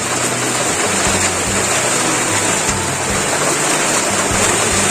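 Rain pours down steadily as a dense, even hiss that fills the whole stretch, with a low rumbling hum underneath and no voices.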